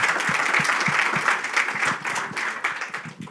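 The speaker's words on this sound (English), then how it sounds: "a warm round of applause" A warm round of applause from a conference audience after a keynote address at the 10X Think Indexing 2023 event, with a close, crackling texture of many hands clapping steadily throughout.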